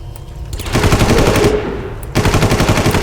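Rapid automatic gunfire from the video game Far Cry 1 rattles in loud, dense bursts with a brief dip midway, close and continuous, with no talk over it.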